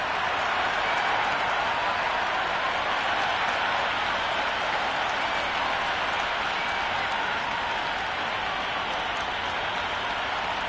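A large stadium crowd at a Big Bash night cricket match roars and claps in a dense, unbroken wall of noise that stays loud and even from start to finish.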